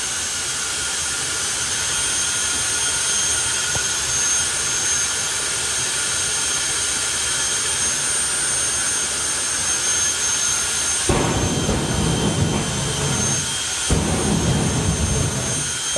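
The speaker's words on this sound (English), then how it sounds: "you hear afterburner pops, it's all part of it." A jet dragster engine roars loud and steady at a drag race. Deep rumbling afterburner pops and surges break in near the end.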